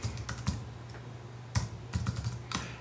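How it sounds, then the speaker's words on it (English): Fingers typing a username on a computer keyboard, a short irregular burst of close, crisp key clicks with brief pauses between them. "where we type in our username"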